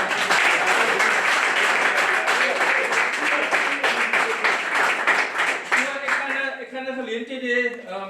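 Sustained audience applause at the Sanlam Boland Derby Day launch, dense and loud for about six seconds before thinning out as a voice begins speaking.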